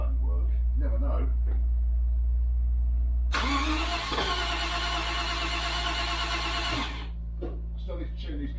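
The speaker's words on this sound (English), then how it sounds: "Cold start." A 1973 Range Rover engine cold-starts: a whirring crank, then the engine catches abruptly and runs loudly for a few seconds before dropping back, with someone talking over low background hum before and after.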